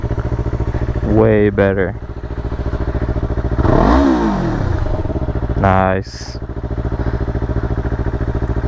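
Yamaha R3 motorcycle fitted with an Akrapovic slip-on exhaust, revving in short bursts with a deeper, throatier note over a steady idle, close by, while people react excitedly over it.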